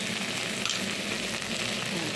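Ground coriander and cumin frying in hot oil for jackfruit chana dal, a dense, steady, fairly loud sizzle with no voices.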